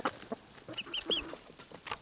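Young Wyandotte chickens cluck softly and intermittently at close range, a few short bird calls scattered over a quiet farmyard background, with no talking.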